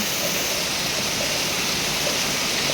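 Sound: heavy rain falling

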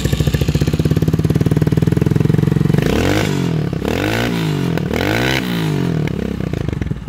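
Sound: Vento Nitrox 250cc motorcycle engine starting and running

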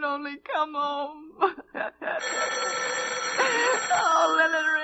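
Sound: telephone bell ringing

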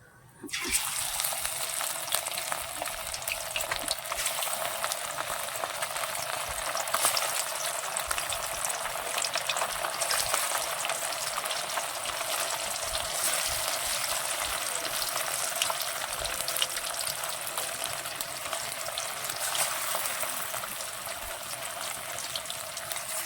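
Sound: amudi fish frying in oil

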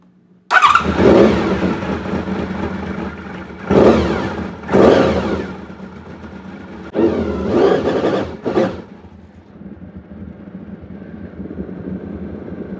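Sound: Honda VFR750 motorcycle engine running to warm up

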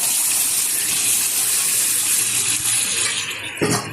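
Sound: pouring boiled kidney beans into a pan

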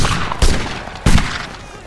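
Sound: musket gunfire in a video game

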